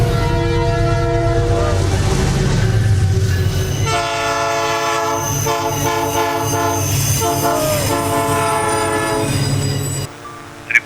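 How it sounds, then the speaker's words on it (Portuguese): Freight train near Formiga, Minas Gerais, accelerating past with a loud, long horn blast in several tones over a heavy diesel rumble and rolling wheel noise, the horn breaking off abruptly near the end. "Nós vamos filmar o trenzão que está vindo ali, ó, de Formiga, está em sentido Arcos. Vai passar aqui acelerando."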